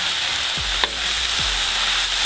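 Potatoes and cabbage fry in a pan while being stirred, a steady close sizzle with a couple of soft scraping strokes and a light clink.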